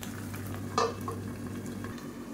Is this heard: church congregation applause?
no